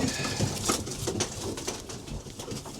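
Several racing pigeons coo and murmur close by in a loft, with soft overlapping calls and some rustling throughout.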